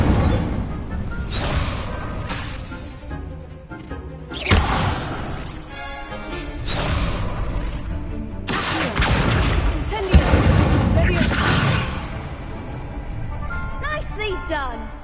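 Incendio fire spells cast at a training dummy in a Harry Potter video game, repeated whooshing bursts and crackling impacts with shimmering magical tails, spaced irregularly, while a voice speaks.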